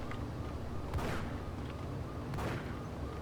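Gunfire in the video game Max Payne: two sharp shots about a second and a half apart rise over a steady, dense layer of game ambience, with no talking.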